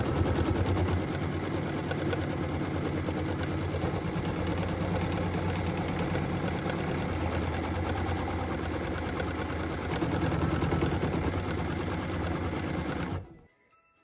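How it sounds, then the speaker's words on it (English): A home embroidery machine stitches a light brown placement line for a church design on a Joy to the World Christmas tree skirt wedge, running steadily and close for about thirteen seconds before stopping abruptly. "we can go ahead and stitch the placement line for the church"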